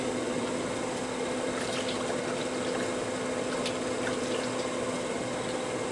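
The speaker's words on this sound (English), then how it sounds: "Hang on while I wash my hands." Tap water runs steadily while hands are washed, a constant close hiss and splash with faint shifting splashes and no pauses.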